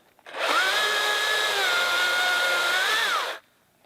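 A Makita 36V XCU04 16-inch cordless chainsaw runs at a steady high whine for about three seconds, then winds down and stops, loud and close with no talk.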